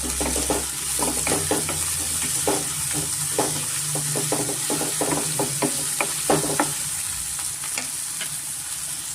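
Onions frying with salt in a pan for a spicy pork curry give a steady, loud sizzle, broken by frequent clattering knocks and scrapes of a spatula stirring throughout.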